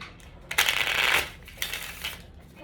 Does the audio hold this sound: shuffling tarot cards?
yes